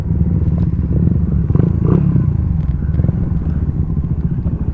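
A loud stock racing motorcycle engine idles and rumbles steadily up close, with occasional light clatter and no voices.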